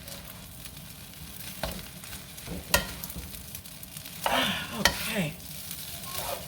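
Vegetable fried rice with egg is stirred in a hot pan, sizzling steadily under scraping spatula strokes and a few sharp clinks; one short word is spoken.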